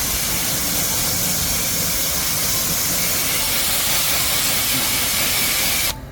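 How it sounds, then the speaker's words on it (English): Water spraying from a hose to rinse bug guts off a ceramic coated car after a track day, a steady loud hiss throughout that cuts off at the very end. "Let's try to just rinse off the bug guts first."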